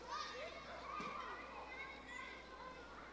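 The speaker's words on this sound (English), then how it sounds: "I added a splice sample, just kids playing." A sampled recording of children playing and chattering outdoors, layered as faint background ambience, a steady distant mix of kids' voices and shouts with no single voice standing out.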